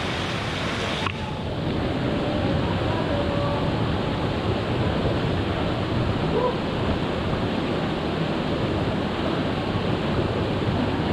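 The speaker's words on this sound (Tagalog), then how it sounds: "yung tubig fresh, running water, wala siyang gamot." Fresh running water pours steadily into a five-foot-deep resort pool at a campsite in San Pablo, Laguna, a loud, continuous rushing wash that fills the scene without pause.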